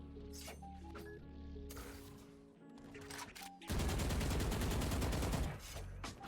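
Valorant gunfire on the Icebox map: scattered single shots give way to a dense, sustained burst of rapid automatic fire lasting about two seconds, loud and close.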